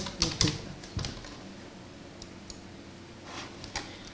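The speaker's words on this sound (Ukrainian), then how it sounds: "Ми пишемо Шевченко, Василь." Keyboard keys clicking as a surname and first name are typed into a computer search, a few quick bursts of keystrokes separated by quiet pauses, close and fairly soft.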